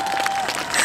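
Audience applause continuing at a televised music concert, a dense, even wash of clapping from a large crowd throughout the short moment, with no talk.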